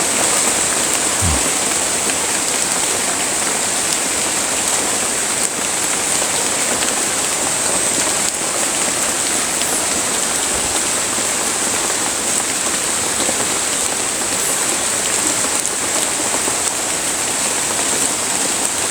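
Rain pours steadily at a dam, a dense, unbroken hiss of drops hitting water and surfaces, loud and close throughout with no voices.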